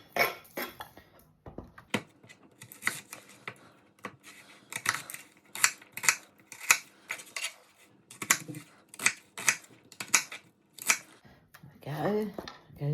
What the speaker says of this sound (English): whilst I cut the chicken up